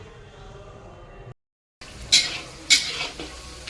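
Chickpeas frying in a pan in a home kitchen, giving a soft sizzle that briefly cuts out. Then two sharp scraping stirs sound close by.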